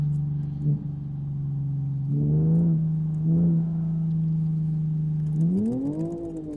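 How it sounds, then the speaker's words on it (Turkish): An old car's engine in the racing game Live for Speed, cruising back streets: a steady mid-pitched drone with brief throttle blips, then a rising rev toward the end. "Ara gaz veriyorum şu anda."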